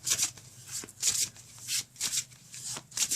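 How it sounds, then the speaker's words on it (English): Close-up tarot deck shuffling, a series of quick crisp riffling bursts repeating in a steady rhythm. "I'm just going to give it another quick shuffle just like this"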